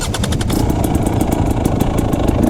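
Dirt bike engine idling on an Idaho mountain trail, a loud, close, steady rapid putter with no talk over it.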